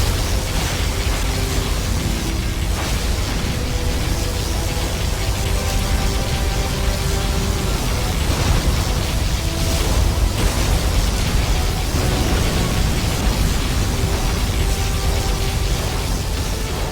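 A particle cannon blast in the Command & Conquer Generals Zero Hour battle rumbles as a continuous, loud, noisy roar with deep booming undertones that persists unbroken for the whole stretch.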